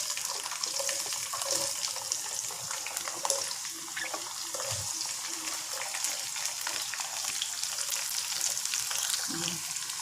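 Onions frying in oil for a mutton curry, a dense, even hiss of sizzling fat held steady and close throughout, with a few faint low knocks of the pan underneath and no one speaking.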